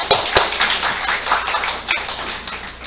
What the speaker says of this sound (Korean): 우리 유재훈 형제에게 감사의 박수 드리겠습니다.